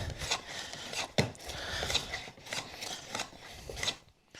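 A Record 020 compass plane cuts thin shavings from wood in a series of close, rasping strokes, each a short scraping swish, five or six passes in a loose rhythm before tapering off.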